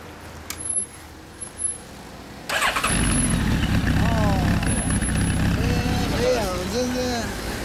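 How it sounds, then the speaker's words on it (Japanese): A 2008 Honda CB1300 Super Four motorcycle engine fires up after a short quiet pause and settles into a loud, steady idle close by, with voices talking over it. "エンジン音聞かせてもらえるかな。"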